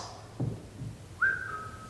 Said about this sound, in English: It was like a little whistle.